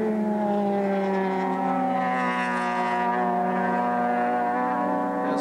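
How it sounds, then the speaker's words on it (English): Mazda RX-7 race cars at Bathurst in 1982 scream past with a loud, sustained high-pitched rotary engine shriek, its harmonic tone rising slightly while it holds steady, and no one talks. "noise of these little RX-7s cackling away in the pit area"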